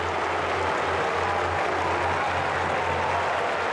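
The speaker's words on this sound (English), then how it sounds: "And listen to this crowd here at Etihad." A big football crowd at Etihad Stadium roars and applauds after the final siren of an AFL match between Carlton and Greater Western Sydney, a dense, continuous wall of cheering with a low hum underneath.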